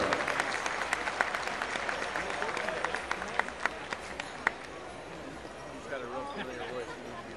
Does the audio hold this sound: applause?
yes